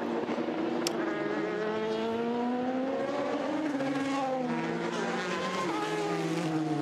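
Le Mans race cars scream past in a continuous, loud stream of high-revving engine notes that rise and fall in pitch as they pass, with a Porsche among them and no voices over the roar.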